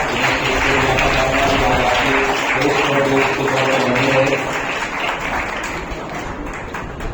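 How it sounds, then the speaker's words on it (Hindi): Continuous applause from an audience at an orator-of-the-month award ceremony, steady for several seconds with a faint tonal sound beneath it, easing slightly in the last few seconds. "इनके लिए जोरदार तालियां"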